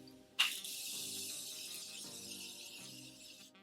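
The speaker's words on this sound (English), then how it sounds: "I'm gonna put on my continuous setting mist by Morphe" A Morphe continuous setting mist bottle releases a sudden, close hiss that holds steady as one continuous spray for about three seconds, then cuts off.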